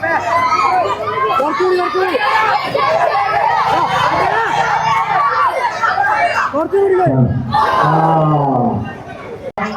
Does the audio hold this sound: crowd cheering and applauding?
yes